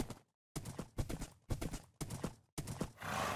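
A Minecraft horse gives several short bursts of sound in a choppy rhythm, close and moderately loud, ending with a hissy noise.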